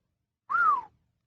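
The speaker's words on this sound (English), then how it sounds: "Dmitri whistled." A person whistles one short, clear note that rises slightly and then glides down, heard alone in near silence.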